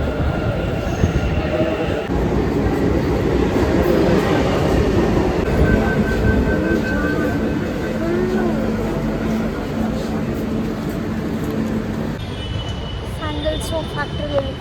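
A Bengaluru metro train rolls along with a constant loud rumble and rattling wheel noise, and a steady roar fills the carriage while voices talk faintly underneath.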